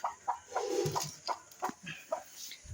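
Broody hens sitting on eggs cluck in short, repeated bursts with an uneven rhythm, fairly quiet and close, with a soft murmuring cluck in between.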